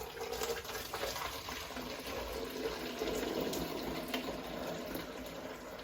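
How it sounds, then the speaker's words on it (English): Elderflower champagne pours from a jug into a bottle in a thin, steady stream, trickling and gurgling faintly for several seconds. "if you just get your jug and gently pour it into the bottle"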